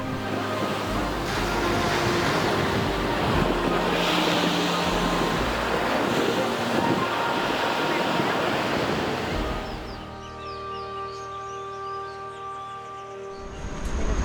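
Ocean surf rolls in at Poipu Beach on Kauai at sunset, a continuous washing roar mixed with wind and soft musical tones that thins out near the end.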